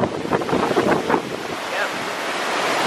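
Rushing wind and surging ocean waves around a rocking cruise ship, with gusty buffeting against the microphone and a broad, constant roar.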